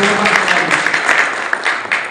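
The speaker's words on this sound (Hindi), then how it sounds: "तालियां भाई, तालियों के साथ।" Applause from a community gathering in Haryana honouring a newly appointed labour welfare board chairman, a close, continuous patter of many hands clapping with a few sharper claps standing out.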